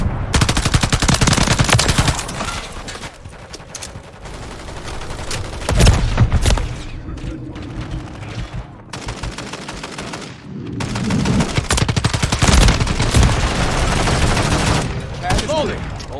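Sustained automatic gunfire in Modern Warfare 3 war mode, loud rapid bursts layered with booms and scattered shots, running almost continuously with brief lulls, while radio-style voice callouts sound faintly under the action.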